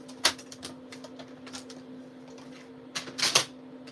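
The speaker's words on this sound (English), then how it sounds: "fold this over, and I'm going to cut off the other side like so" Paper being cut along a score line while making a Christmas craft: a series of sharp, crisp snips and cuts close by, with a louder cluster of cuts near the end.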